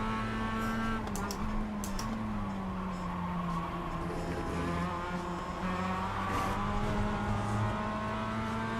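A whole field of race cars in a racing video game, engines droning and revving together in a steady, loud, continuous roar with shifting pitch, close and sustained throughout.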